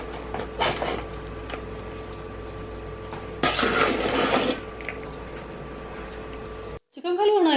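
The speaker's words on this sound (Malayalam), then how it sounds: "ഒന്ന് ഇളക്കാം." Ghee-fried nuts stirred into rice in a cooking pot, a spoon scraping and rasping against the metal in short bursts, with one longer, louder scrape midway and a brief clatter at the end.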